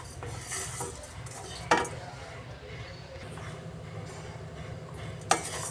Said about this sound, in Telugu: ఒక ఐదు నుంచి పది పది నిమిషాల వరకు మనము ఇలాగే లో ఫ్లేమ్లో ఫ్రై చేసుకుందాము